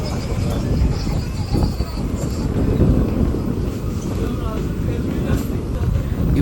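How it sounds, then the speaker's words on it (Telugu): A train pulls into Sudiyur railway station with a continuous low rumble and rattle of the cars, loud and close, with some faint clatter over it. "ఇప్పుడే మన ట్రైన్ సుడియూర్ రైల్వే స్టేషన్కు చేరుకుంది"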